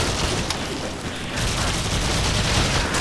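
Sustained, noisy gunfire in the Warframe video game, a dense continuous barrage with a slight dip near the middle before it resumes at full strength.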